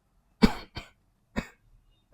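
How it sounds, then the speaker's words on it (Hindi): A person gives four separate coughs spaced unevenly over two seconds. Each one is a sharp, close burst that fades quickly. "बस कर भाई खांसी"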